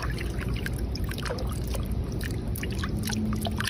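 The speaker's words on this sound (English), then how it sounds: "Why are they having these little drips in the background" Water drips and trickles close by amid a constant low watery rumble, with scattered small splashy ticks rising over the steady background flow.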